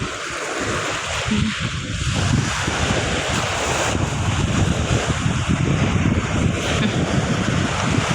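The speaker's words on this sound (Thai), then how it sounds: "พาปุ่มปุ่มเดินชม น้ำทะเลไปเรื่อย ๆ ค่ะ ชมบรรยากาศ งเสียงคลื่นเอานะคะ" Sea waves wash steadily onto a beach, a continuous broadband surf roar with gusts of wind buffeting the microphone, fairly loud and close with no talking.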